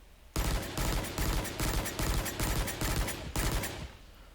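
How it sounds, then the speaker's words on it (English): Rifle fire in a shooting video game, fired in crouched bursts: a loud, close string of rapid shots in several short groups with tiny gaps, ending after about three and a half seconds with a fading tail. "Then we're going to do crouched burst fire."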